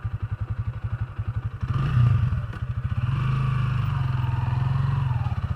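Off-road motorcycle climbing over obstacles, its engine chugging in a steady rapid pulse before a louder surge with clattering and thumping. It then settles into a sustained growl, close by and loud, with no talk.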